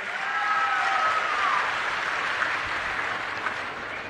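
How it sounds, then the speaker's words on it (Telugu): A rally audience at a political meeting breaks into steady, dense applause that holds at an even level for several seconds, with no one talking over it. "మంచి ప్రభుత్వం అయితే గట్టిగా చప్పట్లు కూడా చెప్పండి, బాగా చేశారని."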